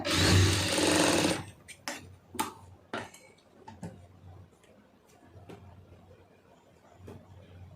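A sewing machine runs a short burst of stitching along a fabric patch joint, then gives way to scattered clicks and handling taps, close and with no talk.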